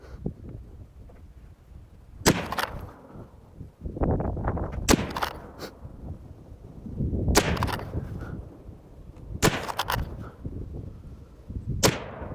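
Tikka T3X Varmint or Steyr THB rifle fired at the range, with about five sharp, loud gunshots spaced a couple of seconds apart, each followed by a brief rumble and handling noise in between.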